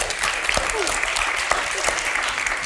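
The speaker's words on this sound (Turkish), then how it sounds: "Bengisu Hanım'ı alkışlıyoruz." Studio audience applauding on a Turkish late-night TV talk show: dense, steady clapping from many hands that carries evenly through the whole stretch, fairly loud, with a voice faintly underneath.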